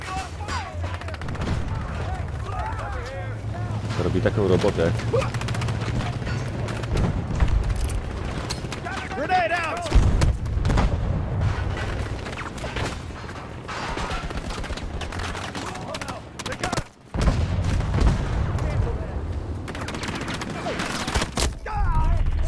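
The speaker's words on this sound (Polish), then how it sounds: "Ale te wybuchy, nie? Jak mi się to podoba, te wybuchy tutaj." Explosions and gunfire from Battlefield 2042 in Portal mode, dense and continuous with heavy booms and rapid shot bursts throughout, one brief drop out near the end, with someone talking over the action.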